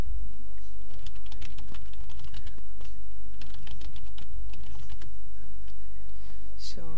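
Close, steady typing on a computer keyboard while entering a computer name during a Windows XP Professional setup, with rapid clattering keystrokes over a low background hum.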